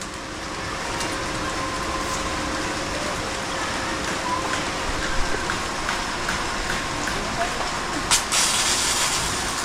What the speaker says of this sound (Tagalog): mukhang maghapon na itong ulan na ito.